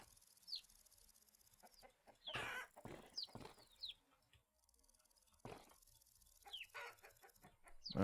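Chickens cluck in the video game Vintage Story, with repeated short clucks and squawks, some bursts of flapping and brief quiet gaps between the calls.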